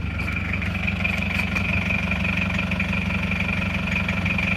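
An Isuzu Panther sits stopped with its cold engine idling, a steady close-up diesel-like rumble with an even, unbroken drone and faint whine throughout.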